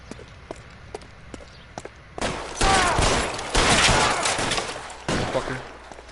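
Gunfire in the video game L.A. Noire starts as scattered sharp single shots, then breaks into loud, dense bursts of rapid fire that rise and fall over several seconds.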